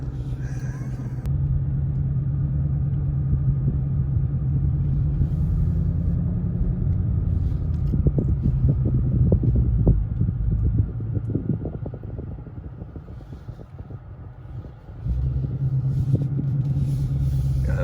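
A 2020 Ford Mustang GT500 rumbles steadily from inside the cabin while driving, a deep, continuous low drone that dips briefly before returning, with no talk over it.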